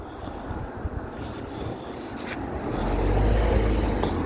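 Car traffic on a street during a Sunday bike ride, heard as a broad, continuous rumble with low engine noise that swells as a vehicle passes close near the end, mixed with wind buffeting the microphone.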